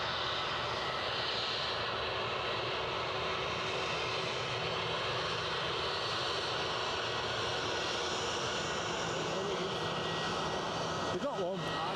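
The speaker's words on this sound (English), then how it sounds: "Probably the only A320 they've got deployed to Edinburgh today, I would guess." An Aer Lingus Airbus A320 jet takes off at Edinburgh Airport, its engines giving a sustained, fairly loud roar that holds steady for the whole stretch while people talk over it.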